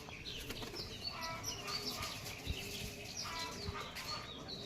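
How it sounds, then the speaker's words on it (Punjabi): A pigeon's wings flap in a fluttering burst as it flies, amid a busy outdoor backdrop of chirping birds and low cooing. "ਬਹੁਤ ਸੋਹਣੀ ਉੜਦੀ ਆ ਕਬੂਤਰੀ"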